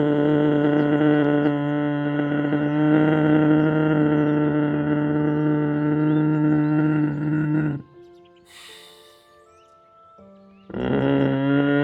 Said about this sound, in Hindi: गले को थोड़ा टाइट करके अंदर इस तरीके से आवाज अंदर लेनी है बार बार में